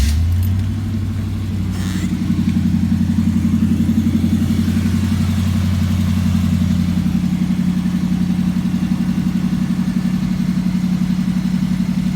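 A 1980 Chevy C-10 pickup truck engine idles close by with a steady, low rumbling drone that holds constant throughout, with no voices.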